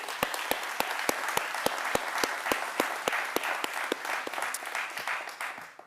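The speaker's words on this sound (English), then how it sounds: "let's give them a round of applause" Audience applause at a Miami Dade College event honoring Freedom Fellows, a steady wash of many hands with a few sharp individual claps standing out, sustained for several seconds and fading at the end.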